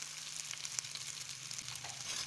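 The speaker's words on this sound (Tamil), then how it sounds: "சேர்த்துட்டு நல்லா வதக்கி விட்டுக்கலாங்க" Chili powder and masala fry in a pan for Madurai-style mutton kulambu, with a faint, steady sizzle and a few soft stirring taps.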